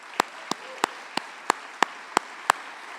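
Someone at the Regenerate Rural 2024 opening ceremony and keynote gives a round of applause in slow, measured claps. There are eight sharp, evenly spaced hand claps about a third of a second apart over a quiet room background.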